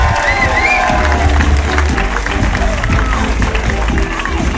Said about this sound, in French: Vos applaudissements pour Hugo Toumir.